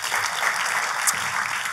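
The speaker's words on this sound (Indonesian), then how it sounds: "Kita kasih tepuk tangan." A church congregation applauds during a service: dense, steady clapping fills the whole stretch at an even level, with no voices standing out.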